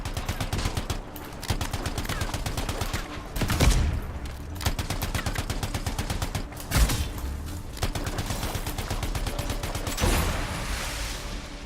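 Continuous automatic gunfire fills the scene in the world of Bastion video game, a loud, steady rattling stream of rapid shots broken by a few heavier booming impacts.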